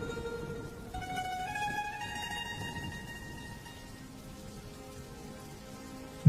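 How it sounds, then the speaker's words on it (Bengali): In a cartoon kitchen, rain pours down and water drips into a rice pot. A steady, moderately loud patter of raindrops continues throughout, with faint tonal sounds above it. "বৃষ্টির জল যে ভাতের হাঁড়ির মধ্যে পড়ছে"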